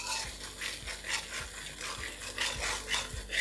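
Ground spices, black pepper and salt are stirred in a pan for a Bengali vegetarian jackfruit curry, giving a steady scraping, rasping sound with regular spoon strokes about every half second, close and moderately loud, with no talk.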